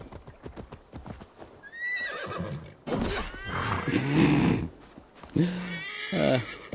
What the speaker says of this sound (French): Allez, cheval magique.